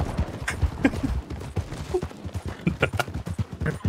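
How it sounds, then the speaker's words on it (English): Horses gallop in the Red Dead Online video game, a busy run of close hoofbeats with scattered sharp bangs that could be gunfire mixed in. "These horses are kind of pissing me off."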